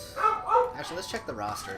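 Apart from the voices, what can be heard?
dog barking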